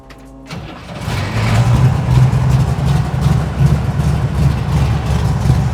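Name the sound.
cold start of a 1968 Chevrolet Camaro engine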